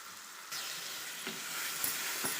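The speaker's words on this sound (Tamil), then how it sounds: "நல்லா கைவிடாமல் நல்லா கிளறிக்கிட்டே இருங்க." A spoon stirs and scrapes thickening coconut milk for thengai thiratipal in a pan over a low-to-medium flame, giving a steady soft sizzle with a few distinct scraping strokes, no voices.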